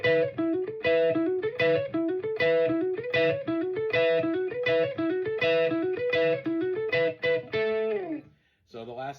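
An electric guitar with distortion and effects plays a repeating lick from a song's piano solo, with a cycling phrase that loops several times, then ends on a short variation and a brief pause.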